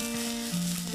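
Red and yellow bell peppers and capsicum fry in a pan, giving a brief steady sizzling hiss with a faint tonal hum underneath, close and fairly quiet, with no talking.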